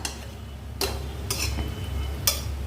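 A spoon stirring curry in a cooking pot gives a few sharp scraping clinks, about four separate strokes, over a steady low background hum.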